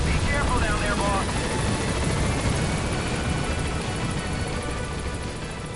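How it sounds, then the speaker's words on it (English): Video game helicopter rotor drone with continuous loud engine noise filling the scene, steady throughout with slight fading toward the end, voices talking over it. "Oh yeah, I forgot there's another fucking helicopter here."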